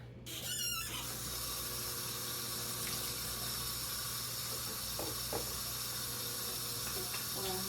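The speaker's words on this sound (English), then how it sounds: "And I'm gonna wash my hands because I've been touching the chicken." Water running steadily from a kitchen tap while hands are washed after handling raw chicken, a continuous hissing splash from start to finish with a brief squeal at the start and small clinks and splashes throughout.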